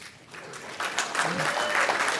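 Applause from an audience at an award presentation swelling in after a quiet start, then sustained steady clapping through the end.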